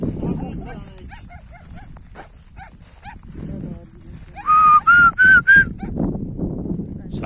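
Several sharp, close barks from a yellow male dog burst out in a quick run of four or five, amid rustling and other animal noises with someone talking nearby.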